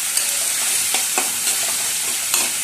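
Finely chopped capsicum sautés in a hot pan for mushroom Manchurian, with a steady sizzle and a few sharp scrapes of a stirring spoon. No one speaks.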